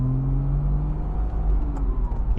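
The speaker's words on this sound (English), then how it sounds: "Incredibly smooth engine, torquey and smooth." A 2006 Porsche Boxster roadster's engine runs steadily at a low, smooth idle-to-cruise hum, close and continuous with no talk over it.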